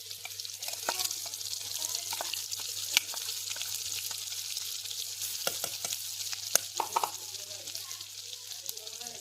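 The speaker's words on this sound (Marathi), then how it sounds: "वाटण आता हे ढवळून घ्यायचे आपल्याला, व्यवस्थित तेलामध्ये परतून घ्यायचं हे वाटण" Ground spice paste (vaatan) stirred and sautéed in a generous pour of oil, cooked traditionally over an earthen wood-fired stove, giving a steady soft sizzle with scattered scrapes and clinks of a ladle; a faint low hum runs underneath.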